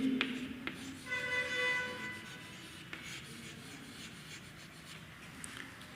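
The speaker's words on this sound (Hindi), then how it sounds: "लिखेंगे रमेश विल हैव बीन" Pen or chalk writing out an English sentence during a grammar lesson, soft close scratching strokes with short taps and pauses, faint and alone.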